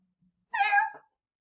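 A single drawn-out meow from a female cat, close and clear, rising then trailing off, with near silence around it.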